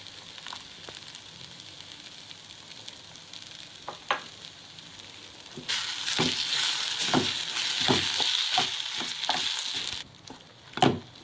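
Ground coconut paste goes into a pan of softened onions for egg curry on a medium flame. A loud, steady sizzle swells for several seconds, with spatula clacks and scrapes as it is stirred, then settles back.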